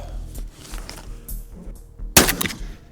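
A single loud shotgun blast from a 50 g magnum buckshot load fired outdoors at an FPV drone cracks out near the end, sharp and close, after quieter rustling and handling noise.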